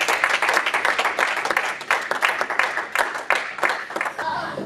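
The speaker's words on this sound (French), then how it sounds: "On va acclamer s'il vous plaît." An audience at a church seminar gives a loud, sustained round of applause, with dense clapping that stays steady throughout and some voices mixed in beneath it.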